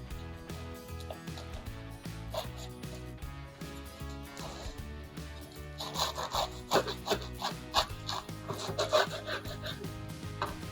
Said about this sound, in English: then I'm going to cut in between the skewers.